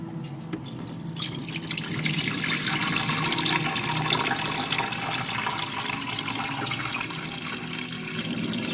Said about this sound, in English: So now you got to start adding your water.